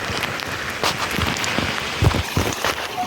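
Rain falls during sunshine, a steady hiss with scattered louder drops patting a nearby surface, with no voices.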